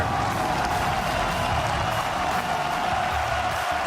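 Large Spanish crowd at a 2016 League of Legends All Star esports match, a steady wall of cheering and applause that roars without pause, loud and continuous throughout.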